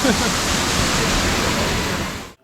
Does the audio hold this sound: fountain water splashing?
yes